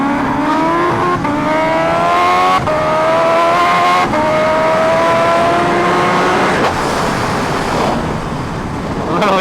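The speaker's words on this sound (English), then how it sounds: "Literally just fighting the bike the whole time with wheelies." A carbon-bodied Kawasaki Ninja H2R motorcycle accelerates hard through repeated gears during wheelies, its engine pitch climbing and dropping with each shift over steady wind roar, loud and close throughout.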